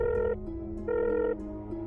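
A landline telephone rings in two long electronic bursts separated by a short pause, steady and clear with no talk.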